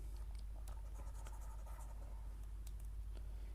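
Chalk or marker scratches across a board during a set theory lecture, light quick strokes and taps over a steady low hum, with no voice in between.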